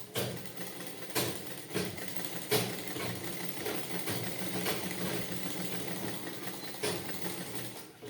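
Sewing machine stitching light blouse fabric, a steady, fairly quiet mechanical hum with soft rhythmic knocks and occasional louder thumps throughout.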